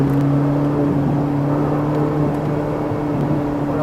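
A Ferrari 458 Italia drives on a race track with a steady, loud engine hum and whir heard from inside, holding an even tone without strong revving.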